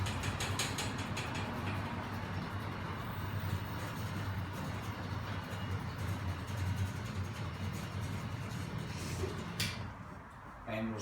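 An electric motor hoist lowers a kayak in a garage with a continuous mechanical whir and gear rattle, running steadily for about ten seconds before easing off.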